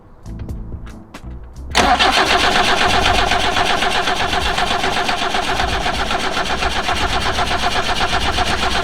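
An old BMW 2002 with a carburettor cranks with a few brief starter clicks, then catches and runs at a steady, loud, close idle for several seconds.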